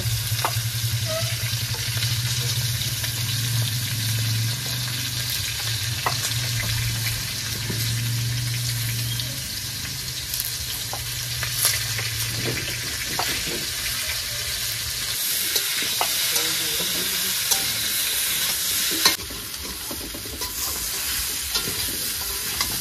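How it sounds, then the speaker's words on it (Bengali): Continuous crackling sizzle of potatoes frying in oil, with a low hum and scattered stirring clicks throughout, no voices. "আমাদের আলু ভাজা হয়ে গেছে, এবার নামিয়ে নেব।"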